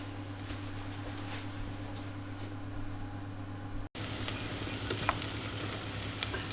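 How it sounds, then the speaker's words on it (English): Onions fry gently in a pan for risotto, a soft, steady sizzle with a constant hiss and faint crackles that briefly cut out and then return slightly louder. "Pop in our onions, and then we'll just gently leave them to fry for maybe about 5-10 minutes"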